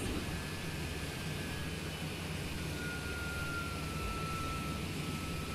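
Steady broadband airplane engine and airflow drone in Flight Simulator 2020 with the throttle cut to zero, continuous and even in level throughout, with a faint thin whine gliding slowly downward; no voices.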